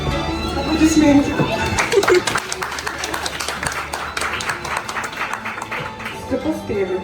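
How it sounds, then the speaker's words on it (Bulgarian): Applause from a graduation ceremony audience, a steady patter of many hands clapping with murmuring voices underneath, lasting throughout at a moderate, even level. "Аплодисменти."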